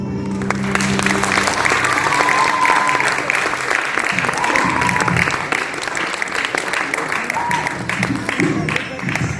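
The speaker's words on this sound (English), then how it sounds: "Give these children a very, very big round of applause." After a children's Diwali skit, a crowd gives sustained, loud applause, a thick continuous patter of clapping with murmuring voices mixed in.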